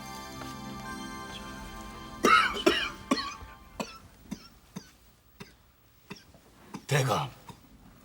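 A man in a Korean period drama coughs heavily in several harsh, separate bursts, close and fairly loud, with quiet pauses and faint background sounds between them.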